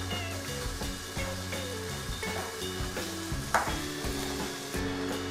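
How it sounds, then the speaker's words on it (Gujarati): Turmeric, Kashmiri red chilli powder and garam masala are stirred in a hot pan with beans for a multigrain khichdo, producing a steady close sizzle broken by repeated scraping strokes of a spoon, no voices. "એકથી બે મિનિટ માટે આ રીતે હલાવીશું"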